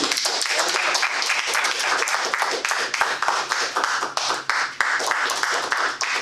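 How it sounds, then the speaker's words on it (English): An audience at a Toastmasters club meeting claps for a runner-up award winner, a brisk round of many hands with individual claps distinct, continuous and fairly close throughout. "Round of applause to Janet."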